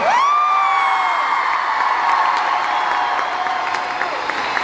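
Arena crowd clapping and cheering for the band, a loud sustained roar with whoops and shouts, while a rising and falling tonal whistle or synth sweep cuts through the noise.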